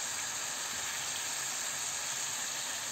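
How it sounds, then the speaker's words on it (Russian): Beef pieces sizzle in a frying pan, making an even, continuous hiss at moderate volume with no talking over it. "Переворачиваем со всех сторон, обжариваем"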